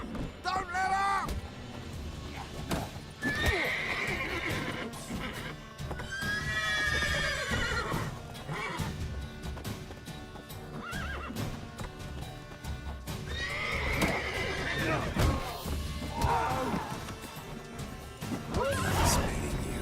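Working horses neigh repeatedly while hooves clip-clop and thud, with people talking and shouting over the animals in a busy, loud scene.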